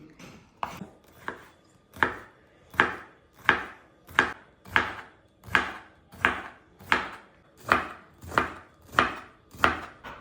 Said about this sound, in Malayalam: ഒരു പാവയ്ക്കയാണ് ഞാൻ എടുത്തേക്കണത് അത് നമുക്ക് കനം കുറഞ്ഞ് വട്ടത്തിൽ വട്ടത്തിൽ അരിഞ്ഞെടുക്കണം